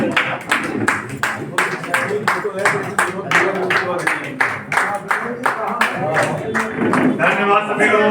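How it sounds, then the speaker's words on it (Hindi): Audience applause at the Vikasika Diwas 2024 event, a sustained burst of collective clapping with sharp, evenly spaced claps running throughout while a voice speaks over it. "सभी लोगों से अनुरोध है कि एक बार तालियां सबके लिए सामूहिक रूप से हो जाए।"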